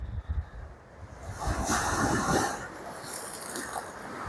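Sea waves wash onto Lalganj beach at Bakkhali in a soft, rolling swell, faint and mixed with steady wind buffeting the microphone.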